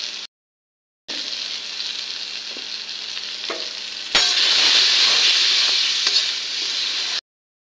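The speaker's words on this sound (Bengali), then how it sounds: "বেগুনটাও একটু ভাজি করে নেবো আমি" Eggplant and potatoes fry in a pan, giving a steady loud sizzle with no voices; it breaks off briefly near the start and swells louder partway through as the frying intensifies.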